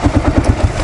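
Kawasaki KLR 650 motorcycle running, a close, pulsing low-pitched single-cylinder engine thump with regular beats in a brief burst.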